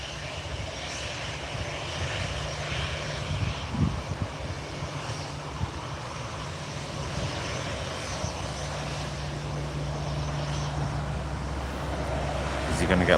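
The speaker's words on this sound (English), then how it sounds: "EasyJet A320 to Paris." A steady, fairly faint drone of an EasyJet Airbus A320's engines as it departs for Paris from Newcastle Airport, heard from a distance outdoors with wind noise on the microphone.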